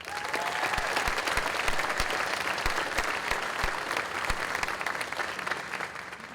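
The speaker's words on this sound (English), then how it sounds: "please hold your applause until they all stand" Steady applause fills a law enforcement academy graduation as corporals are honored, a dense crowd clapping with a few sharp, close claps standing out from the wash.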